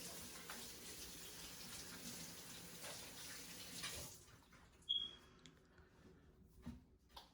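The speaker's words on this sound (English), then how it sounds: "I'll wash my hands." Hands washed under a running kitchen tap while cooking Nigerian Ugba soup; a steady stream of water flows for about four seconds, then shuts off, leaving a few faint clinks and drips.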